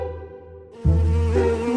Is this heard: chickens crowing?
no